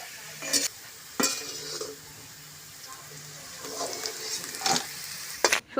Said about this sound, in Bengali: মানটা আমি সুন্দর করে ভেজে নেব